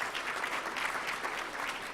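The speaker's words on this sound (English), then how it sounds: "How about a big round of applause for them?" Dense, steady clapping from a conference audience at an annual meeting, a full room applauding evenly throughout.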